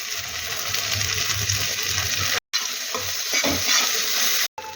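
Vegetables with a ginger, mustard and poppy seed paste sizzle and are stirred in a hot pan, a close, steady frying hiss with scraping strokes, broken by two brief silent gaps.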